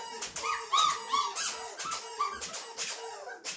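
Flat-coated retriever puppies about four weeks old play with toys, letting out a run of high squeaks, whimpers and small yips in quick bursts, close and fairly loud, with no talking.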